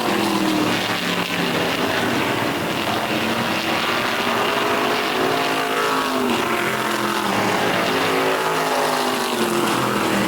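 A pack of 207 Crate Modified race cars roars around an oval track at night, a dense, continuous engine howl with overlapping rising and falling revs as cars sweep past, loud and sustained.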